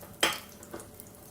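Sindhi-style bottle gourd pakoras frying in hot oil give one sharp sizzling burst that quickly fades, followed by a fainter second crackle, with no voices.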